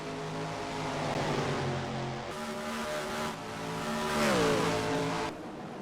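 Stock cars in the NASCAR Racing 2003 video game race at Richmond, engines droning loudly and continuously with rising and falling pitch as the pack passes, no voices.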